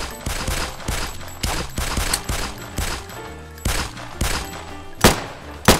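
Rapid bursts of gunfire in the survival game Unturned during a police training roleplay, repeated volleys and single loud shots crackling close and continuous over a steady in-game hum, with a particularly sharp blast near the end.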